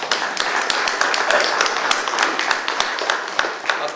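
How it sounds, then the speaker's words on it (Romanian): An audience at a literary colloquium in Bacău breaks into sustained applause, dense steady clapping of a seated crowd, with a few louder individual claps standing out. "Și să-l aplaudăm pentru acest fapt."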